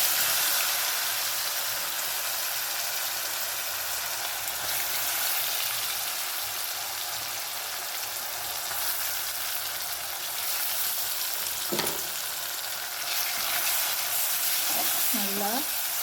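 Shallots and curry leaves fry in oil for a chicken gravy, a soft continuous sizzle and hiss close by, with a couple of brief utensil knocks and a short voice near the end.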